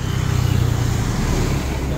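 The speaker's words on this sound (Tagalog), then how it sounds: "daming sasakyan." Heavy road traffic rolls past at a street junction, with many cars and motorcycles passing close by in a loud, continuous engine rumble. A voice sounds briefly beneath the din.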